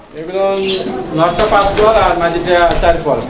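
Fancy pigeons coo in low, repeated phrases close by, overlapping with someone talking throughout.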